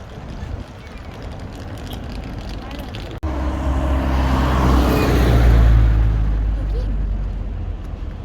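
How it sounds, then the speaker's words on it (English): A school bus in Dubai rolls up to its stop: a deep engine rumble starts abruptly, swells as it draws near, then holds steady and loud. "That is our bus, guys. It is coming."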